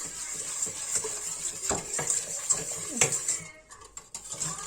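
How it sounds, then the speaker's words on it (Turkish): Whisk scraping and clinking steadily against a pot on the stove as a birthday-cake mixture thickens, with irregular metallic taps and stirring noise, fairly close and moderately loud, before a quieter pause near the end. "Ocağımızda da sürekli çırpıyoruz."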